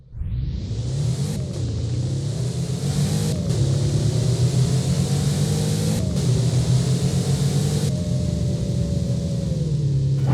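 A Pagani engine from the Roblox game Driving Empire drones as a steady, buzzy, synthetic-sounding rumble with brief abrupt cuts and slight pitch shifts, loud and constant throughout.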